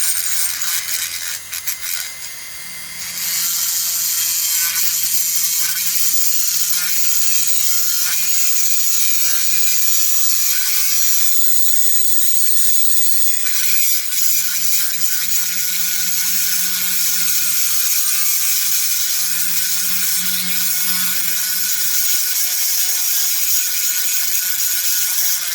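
Light, steady file or cutter strokes working a Stihl MS 660 chainsaw part, a continuous close scraping rasp lasting throughout, with no talking.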